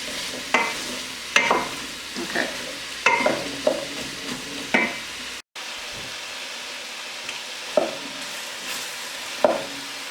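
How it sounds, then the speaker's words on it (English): Onion and squash cooking in a soup pot, a soft continuous sizzle broken by repeated scraping stirs with a utensil, a brief silent gap midway, no talk. "we're just going to let this cook for a few minutes"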